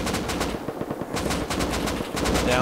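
Gunfire in the online survival game Rust, rapid bursts of automatic shots crackling close and loud in uneven clusters, with no talking.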